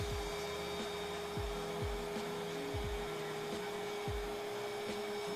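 A rotary carving tool controlled by a foot pedal runs during cosplay armor crafting, holding a steady high whine. Its motor pitch repeatedly swoops down and back up as the pedal changes speed, heard close and alone.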